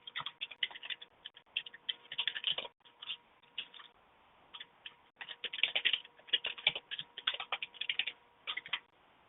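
Computer keyboard keys clatter in quick bursts as an email and password are typed at a login screen, with short pauses between flurries, close-up and with no speech.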